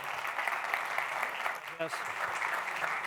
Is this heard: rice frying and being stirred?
no